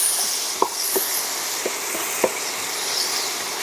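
Meat samosa filling cooking in a pan, giving a steady close sizzle and hiss broken by a few soft stirring taps.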